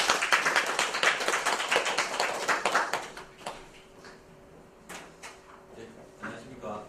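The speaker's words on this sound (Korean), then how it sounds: "큰 박수로 환영해 주시기 바랍니다" An audience claps in welcome for a lecturer at a real-estate auction study seminar, a burst of dense clapping that thins and fades out after a few seconds into scattered claps.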